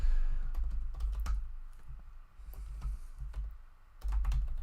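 A computer keyboard clatters as someone types out a comment, with irregular bursts of close, crisp key clicks and brief pauses between flurries, and no voices.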